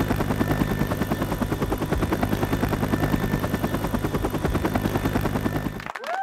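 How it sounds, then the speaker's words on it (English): A toy helicopter's rotor chops in a fast, steady rhythm, loud and close, before cutting off abruptly near the end. "We are now going to bring in the helicopter and rescue Donald Duck."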